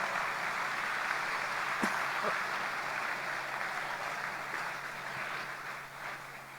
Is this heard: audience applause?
yes